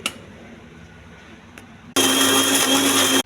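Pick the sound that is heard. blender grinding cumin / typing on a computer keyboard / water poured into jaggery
blender grinding cumin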